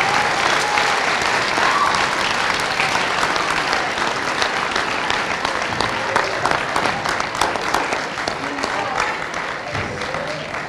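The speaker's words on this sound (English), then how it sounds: "I want to give our teachers one more big round of applause." A gym full of students gives teachers a loud, sustained round of applause at a school assembly, dense clapping with scattered cheers filling the room for about ten seconds and fading slightly toward the end.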